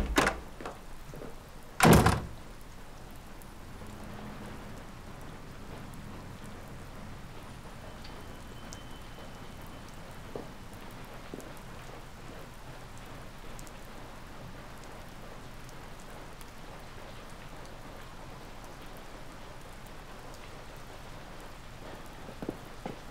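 Rain falls steadily outdoors as a soft, even wash, opening with a sharp thud like a door closing, then continuing alone and quietly for the rest of the stretch.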